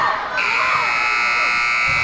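Loud electronic horn buzzer sounding at the end of a quarter in a varsity boys high school basketball game, a sustained blaring tone starting abruptly and holding, with crowd and commentary beneath it.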